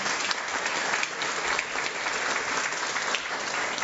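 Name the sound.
audience applause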